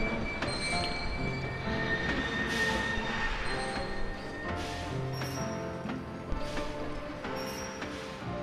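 Train in the video game Kingdom Hearts II, wheels squealing steadily on the rails with a continuous mechanical rumble and repeated high metallic screeches throughout, no voices.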